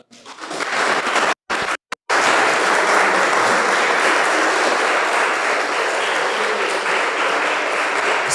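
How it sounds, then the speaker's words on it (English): An audience at a city leadership session applauds loudly, a dense sustained wash of clapping broken by a few brief dropouts early on, then continuing strong to the end. "You need to clap to that."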